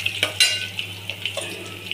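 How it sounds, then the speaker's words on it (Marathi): Byadgi chilli frying in oil with already fried onion, a short burst of close sizzling broken by several light scrapes and taps of a spoon against the pan. "त्याच्यामध्ये थोडीशी बेडगी मिरची एक टाकते मी, हे तळून. ते पण चांगली तळून घ्यायची."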